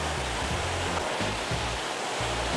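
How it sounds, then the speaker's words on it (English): Water from a golf course water feature flows and splashes steadily, a continuous broadband rush like a small waterfall heard close, with no talk over it. "Fantastic water features though."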